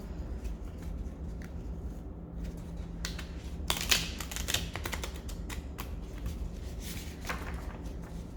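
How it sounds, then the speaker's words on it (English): Tarot cards riffled and shuffled close by, crisp papery flutters in several short bursts with a louder flurry near the middle. "One more shuffle"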